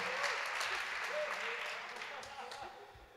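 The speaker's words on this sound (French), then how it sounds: "On peut l'applaudir très fort." Audience applause for a pianist at a concert at the Centre Pompidou, dense clapping from a crowd that is fairly faint and fades slightly toward the end, with a voice faintly heard over it.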